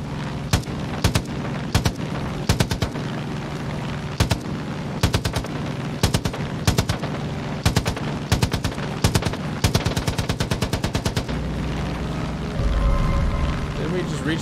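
Bursts of automatic gunfire from a Far Cry 5 firefight at an enemy tower, rapid volleys of sharp shots repeating loudly in clusters over a continuous game backdrop, with talk underneath.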